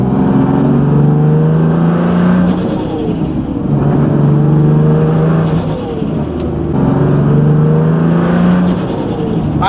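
A loud car engine hums and drones while driving, rising and falling in pitch as it shifts through gears, with road noise underneath.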